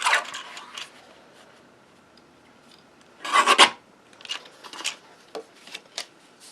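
A file or rasp trims a workpiece in close, scratchy strokes: a few brief passes, then a louder burst and several short rubs and scrapes, with no voices.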